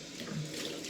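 Tap water running over a 1960s Gillette Slim Twist safety razor, a close, steady splashing rush of water lasting about a second with no voices.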